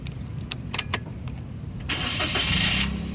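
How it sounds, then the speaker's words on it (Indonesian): Toyota Agya 1.0 petrol hatchback with its engine cranking over from about two seconds in, then catching and settling into a steady idle. A few sharp clicks and thumps come before it. "nah sekarang kita coba nyalakan mobil"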